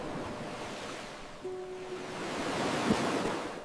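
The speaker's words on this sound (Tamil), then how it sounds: "இந்த சிப்பியில் கடல் அலைகளின் சத்தம் கேட்கிறது" Ocean waves heard through a seashell, a soft, steady whooshing wash that swells slightly toward the end, with a brief faint tone and a small click.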